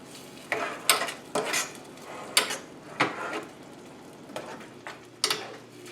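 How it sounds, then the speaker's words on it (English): A spoon stirring cream and cheese into a merguez tomato sauce in a pan, a series of sharp scraping clacks and knocks against the pot at an uneven pace, fairly close, with a low sizzle between strokes. "Stir this well. Mix the cream in well, mix the cheese in well."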